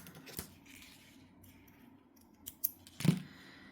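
Scissors snip through crochet yarn on an amigurumi doll, with a few quiet handling rustles and then two or three crisp close cuts near the end, with no talking.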